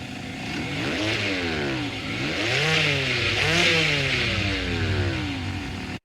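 A Mazda Miata ND with an aftermarket exhaust revs repeatedly, its engine note rising and falling in several sweeping pulls, loud and close, before cutting off abruptly.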